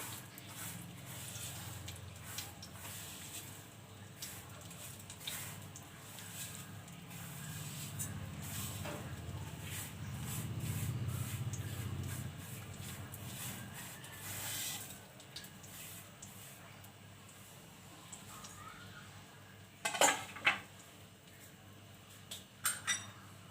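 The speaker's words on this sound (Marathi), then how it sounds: "याच्यात शेवया भाजून घेऊया।" Vermicelli roasts in about three spoons of ghee over a low flame for kheer, giving a soft, steady hiss with faint scraping, then a few sharp utensil clinks near the end; no talking.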